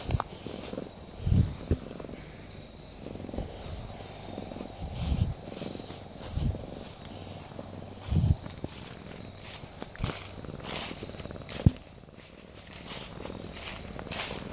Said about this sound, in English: Listen to him purr.